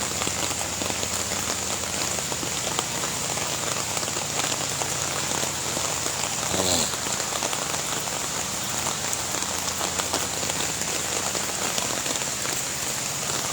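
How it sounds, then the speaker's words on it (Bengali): Torrential rain beats down on a road under floodwater, a thick unbroken patter and hiss heard close and loud for the whole stretch. "সকালবেলায় এত বৃষ্টি"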